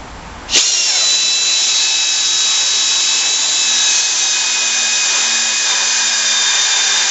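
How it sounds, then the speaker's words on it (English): A power drill whirs up abruptly and grinds steadily through sheet metal for a leaf vacuum hopper, a loud, sustained high-pitched whine that holds without pause. "You just want to drill until you touch the top of the under metal."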